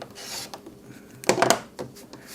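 Quilt fabric being trimmed along a ruler for a log cabin and flying geese block, heard as short close scraping and rubbing strokes with one louder rasping cut in the middle.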